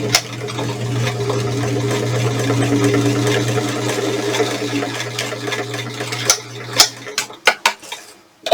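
A sewing machine stitches closed the opening of a small fabric vaccination card holder, running with a steady hum for about six seconds before stopping, followed by a few sharp clicks and handling knocks.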